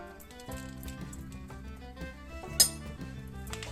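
A spoon lands with one short metallic clink amid soft kitchen handling noises and a low background hum.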